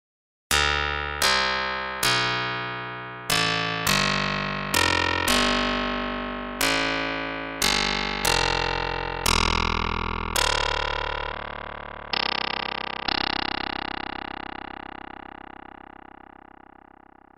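Karplus-Strong synthesized plucked string excited by noise: a series of about fifteen bright, sharp plucked notes in an irregular melodic rhythm, each decaying quickly, the last few ringing longer and fading out.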